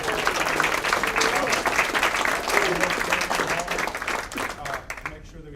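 An audience at a high school Hall of Fame induction gives Coach Oliver a sustained round of applause, dense clapping filling the room for several seconds before thinning out at the end, with a voice faintly audible beneath.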